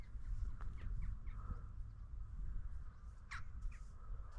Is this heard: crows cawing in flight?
yes